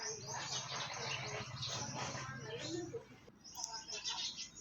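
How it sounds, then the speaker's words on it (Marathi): Birds chirping around mango and chikoo trees on a festive morning: faint scattered tweets over a soft background hum, fairly distant and quiet throughout. "प्रसन्न वातावरण पक्ष्यांचा आवाज छान वाटत होतं"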